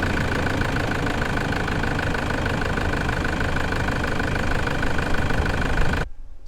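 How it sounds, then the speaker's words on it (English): A car starter motor cranks the engine steadily at close range for several seconds, powered by a 12-volt lithium battery, with a constant mechanical whine, then cuts off abruptly. "the car starter motor cranks super quickly"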